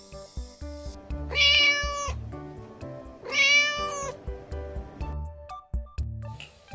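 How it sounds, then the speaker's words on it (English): A cat meowing nearby: two clear, drawn-out meows about two seconds apart, each close and fairly loud, with soft rustles and small knocks in between. "cat,"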